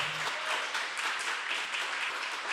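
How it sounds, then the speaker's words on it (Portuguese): A church congregation claps loudly for the Lord during an evangelical sermon, a dense, continuous wash of many hands at steady volume, with a brief low tone at the very start and no speech over the clapping. "Vamos aplaudir bem forte ao Senhor."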